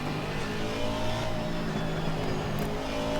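A race car engine in Assetto Corsa Competizione at Paul Ricard drones loudly and continuously at high revs, a dense buzzing tone with layered harmonics and no speech.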